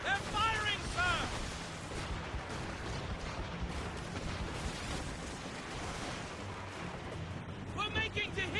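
Naval cannon fire and ship battle in the Assassin's Creed Rogue video game: heavy booming shots and rumbling blasts over sea and surf noise, with shouting crew voices at the start and end.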